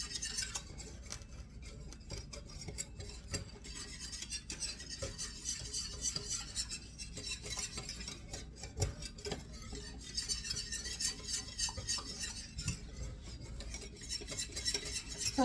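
Mayonnaise ingredients are whisked thoroughly in a bowl, with a continuous, quiet, rapid scraping and clinking of a utensil against the dish for about fifteen seconds. No voices.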